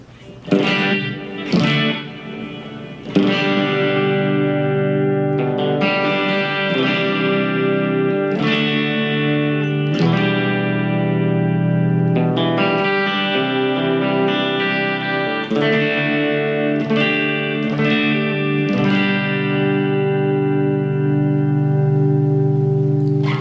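Electric guitar through an overdrive pedal with reverb plays a steady run of sustained, distorted chords and single notes, each strum ringing into the next with a reverberant tail and no talk.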